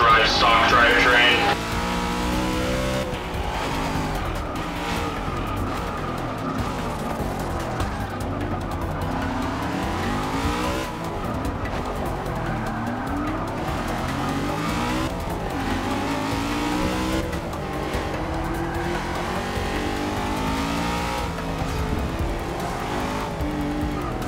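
Muscle car fitted with a 5.9-liter V8 racing engine and stock rear-wheel-drive drivetrain, a loud continuous engine roar with rising and falling revs and tire squeal, with talk over it throughout.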